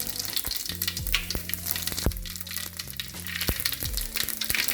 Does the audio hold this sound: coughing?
no